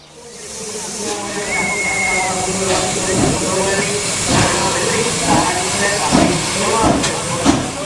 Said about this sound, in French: une course de locomotive à vapeur en 3 manches